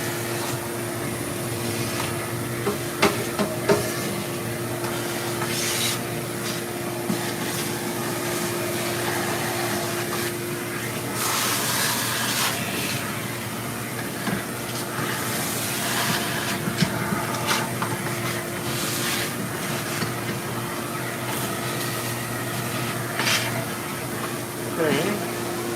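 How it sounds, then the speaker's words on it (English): A vacuum cleaner drones steadily throughout, a constant whirring hum with occasional bumps and scraping as it moves. "Trusty vacuum cleaner."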